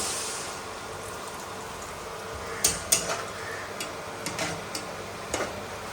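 Whole cumin seeds stirred in a cooking pan for a Bengali fish and eggplant dish, giving a run of light, sharp ticks and scrapes, several close clicks spaced irregularly over a steady faint hiss.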